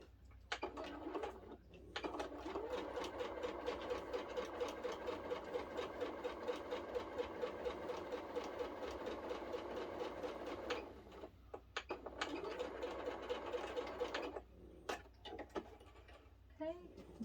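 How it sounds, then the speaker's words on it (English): A sewing machine stitches a straight seam down the centre of a quilt block, running in a fast, even rhythmic whir for about ten seconds, with brief start-stop bursts before and after and someone talking quietly. "all we are going to do is sew directly down that center line"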